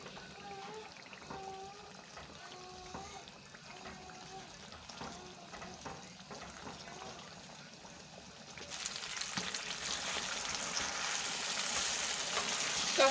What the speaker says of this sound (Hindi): अब आंच को बहुत ज़्यादा तेज़ नहीं रखेंगे, मीडियम एंड लो के दरमियान में रखेंगे और इसे अच्छे से भून लेंगे